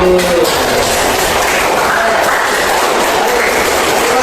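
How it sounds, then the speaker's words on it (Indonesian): A classroom of students applauds a student group after its presentation, steady dense clapping filling the room from start to finish at high loudness. "kita beri tepuk tangan untuk kelompok 1"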